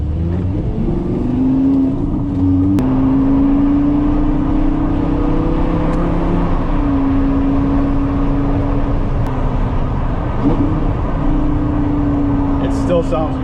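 A Lamborghini Gallardo driven in sport mode gives a loud, steady engine drone from inside the cabin, holding a level pitch with a few small rises and dips. People talk over it throughout.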